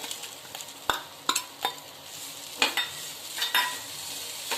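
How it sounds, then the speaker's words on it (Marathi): A spoon stirs a grated coconut and jaggery filling in a pan over a soft steady sizzle, with a few sharp scraping knocks against the metal, close up and with no talk. "त्यात मी खवलेला नारळ टाकते। आपण छान परतून घेते।"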